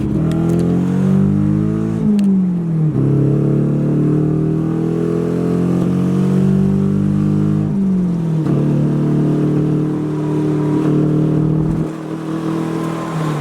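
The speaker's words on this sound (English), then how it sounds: "We did the 25-minute drive all the way to Adam's shop." A car engine, its cooling system filled with Mountain Dew, drones loudly from inside the vehicle, rising in pitch through the gears and dropping as it shifts, repeating several times.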